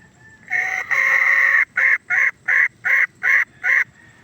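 A grey junglefowl (labuyo) rooster crows close by in a Philippine farm setting, one long drawn call followed by six short, evenly spaced bursts, loud and clear with no talk.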